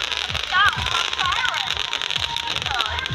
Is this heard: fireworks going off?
yes